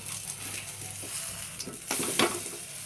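A fish omelette sizzles steadily in a pan after being flipped, a continuous close frying hiss with a brief louder flare near the end and no talking.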